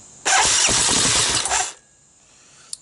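A Honda TRX200SX ATV engine cranks and catches, giving a loud buzzy burst of about a second and a half that cuts off into quiet, with a small click near the end.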